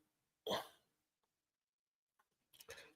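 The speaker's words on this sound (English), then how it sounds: "My dog's making that throw up sound." A dog makes retching, throw-up sounds indoors: two short, abrupt hiccup-like heaves separated by silence, fairly close and moderately loud.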